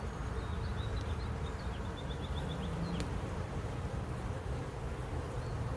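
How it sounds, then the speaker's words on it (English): Honeybees buzzing around an open hive during a frame inspection, a dense, steady drone of many wings close by, with a brief higher whine from a single bee flying past. "Get out, bee."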